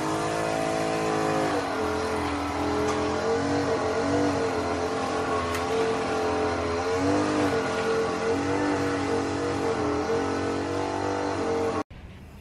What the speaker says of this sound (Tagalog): nag-umpisa na si Pete mag-mower